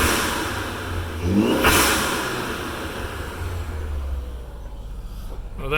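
A Ford Focus ST engine with an aftermarket air intake filter revs up into a throaty, rising roar, then settles into a steady mid-pitched drone and ends with a short blip, heard up close and outdoors.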